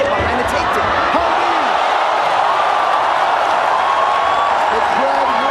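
Loud, continuous crowd roar fills a mixed martial arts event at ONE Championship 78, a dense wash of cheering and whoops that never lets up, with commentary voices running underneath.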